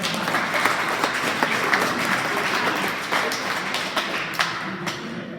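Audience applause fills a wrestling awards ceremony, a steady dense wash of clapping from a crowd, fairly loud and continuous with a few sharper individual claps standing out.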